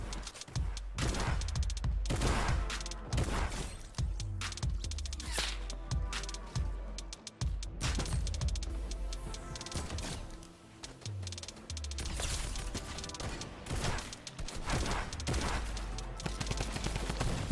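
Gunfire from various weapons in Fortnite: dense, loud bursts of automatic fire mixed with single shots and occasional impacts, almost continuous throughout with short lulls.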